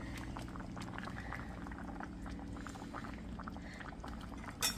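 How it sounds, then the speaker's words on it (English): Simmering catfish gravy with bilimbi bubbling in a cooking pot while being stirred, a soft continuous bubbling and liquid churn, close and fairly quiet, with a light clink near the end. "Let me just give it a little stir."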